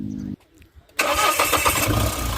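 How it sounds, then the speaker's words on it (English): A Mahindra Scorpio SUV engine cranks briefly, then fires up with a loud, close surge and settles into a steady idle. A short voice sound comes just before the start. "let's just start this engine and see what it does on a single start"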